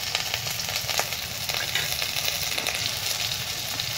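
Garlic paste sizzles in a hot pan as it goes in for a spiced Bengali khichuri, a loud, dense, continuous crackling hiss with no talk.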